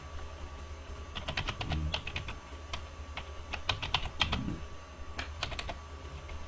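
Fingers type thumbnail text on a computer keyboard, giving quiet, irregular clusters of key clicks with short pauses between bursts over a low room hum, heard alone without any talking.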